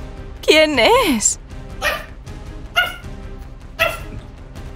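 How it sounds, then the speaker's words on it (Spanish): A dog barks and yelps repeatedly in a patio setting, loud and close, with a whining, howling first call followed by several sharp barks spaced about a second apart. "Pero tú, ¿por qué estás ladrando tanto?"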